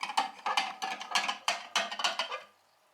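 Rapid clinking of a metal spoon against a glass jar while stirring salt into brine for pickling cucumbers, about a dozen quick strikes in an uneven rhythm, close and fairly loud, then stopping.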